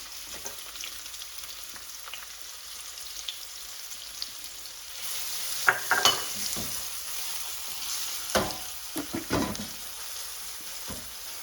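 Finely chopped onions hit hot oil in a pot with cardamom, sending up a close, steady sizzle, with louder bursts of stirring and scraping in the second half and no talking.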